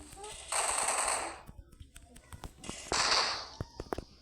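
Bursts of video game gunfire crackle in two rapid volleys, with sharper single shots and thuds scattered between them.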